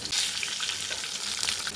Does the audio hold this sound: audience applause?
no